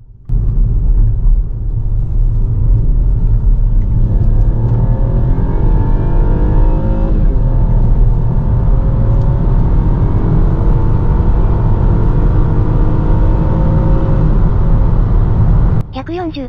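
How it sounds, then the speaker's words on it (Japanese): BMW 118i M Sport, 140 hp, accelerating hard during an acceleration test, engine note rising steadily with gear changes over a loud, continuous rumble and road noise, close and sustained. "そろそろ加速性能テストと参りましょう。"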